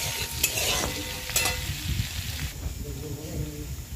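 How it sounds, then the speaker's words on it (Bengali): Potatoes with chopped onion and tomato sizzle in a pan under a continuous close hiss, with a few scraping stirs of the spoon. "একটু আলুগুলো ভাজা হওয়ার পর আমি দিয়ে দিলাম এর মধ্যে পেঁয়াজ কুচি"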